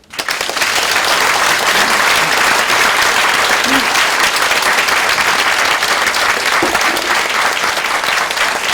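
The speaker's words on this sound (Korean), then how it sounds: "이제 나가실 건데 박수 부탁드립니다." A large crowd claps at a crowded press interview event, loud dense applause rising quickly and holding steady for several seconds without a break.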